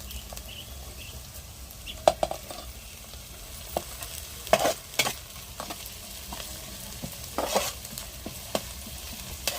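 Ginger garlic paste fries in a pan with onions, a low steady sizzle with occasional scraping and tapping stirs of a spoon against the pan.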